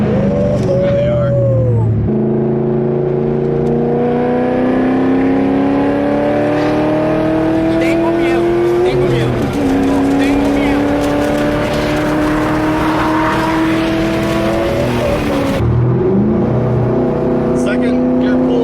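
A C5 Corvette fitted with a Texas Speed cam kit pulls hard in second gear, its engine note rising loudly through the revs with a short shift break and lopey rumble, voices talking over it.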